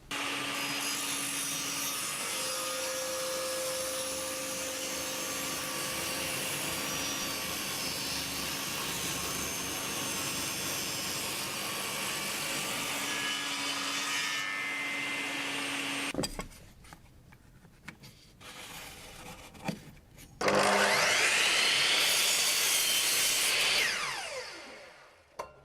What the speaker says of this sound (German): Und dann sägen wir Kantholz.